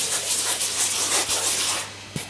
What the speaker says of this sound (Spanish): esa última capa de lijado la estoy dando con una lija muy fina